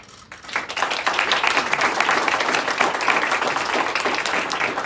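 Audience clapping at a mayoral press conference announcing a new police chief, a sustained close burst of applause that swells quickly after a brief pause and holds steady throughout.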